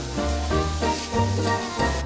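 Fish and garlic frying in oil, a loud close sizzle with crackling spatter that swells and dips in several waves, as if stirred, with no voices.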